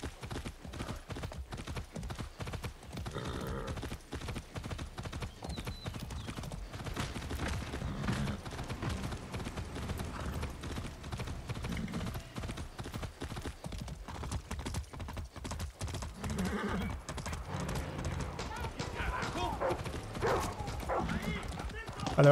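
Rapid, rhythmic clip-clop of horse hooves galloping continuously in Far Cry 6, with voices talking over the steady hoofbeats.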